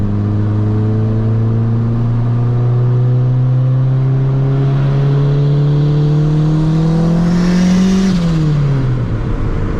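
A turbocharged Honda EG car pulls hard through the gears, its engine note droning loud and steady as it climbs in pitch before a shift near the end, close and alone with no talk.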